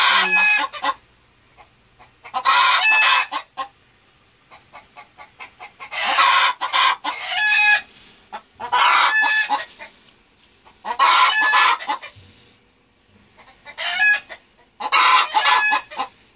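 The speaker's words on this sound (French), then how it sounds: "Et il y a le coq de l'autre côté qui..." Hens cluck and a rooster crows repeatedly in a poultry litter yard, loud bursts of fowl calls coming in clusters with short quiet gaps between them and no talking.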